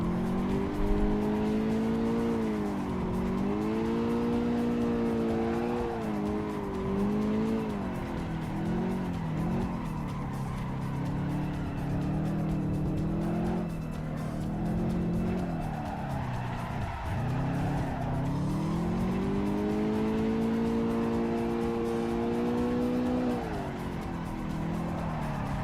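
A car drifts in the racing simulator Assetto Corsa Evo, its tires squealing in long, wavering howls that rise and fall over a steady engine drone, continuous and close, with one sharp dip midway.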